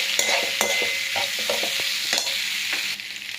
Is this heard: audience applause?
no